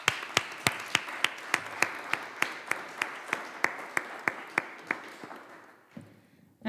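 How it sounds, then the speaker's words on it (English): A conference audience claps in a steady, rhythmic round of applause, each clap sharp and evenly spaced, going on for several seconds before tapering into a brief pause. "Please give him a round of applause for the great and informative, successful day"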